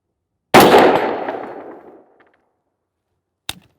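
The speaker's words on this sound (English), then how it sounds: "And shot number 10 to finish it off." A rifle shot firing Atomic Ammo 77 grain match ammunition, one sharp loud crack with a ringing decay lasting over a second, followed by a quieter metallic click a few seconds later.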